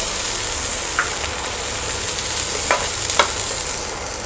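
Beans and green peas fry over medium heat in a pan for masala oats, a loud, even sizzle broken by a few quick scrapes of a spoon stirring.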